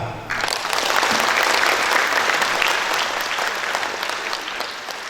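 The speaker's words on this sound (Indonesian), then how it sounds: "Tepuk tangan." Audience applause during a guest lecture at an Indonesian campus, a sudden loud burst of many hands clapping close and sustained for several seconds with faint voices beneath.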